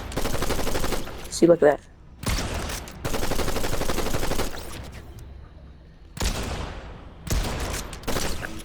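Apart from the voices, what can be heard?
assault rifle gunfire in the video game Fortnite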